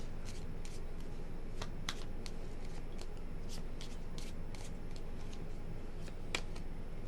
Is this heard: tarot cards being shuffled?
yes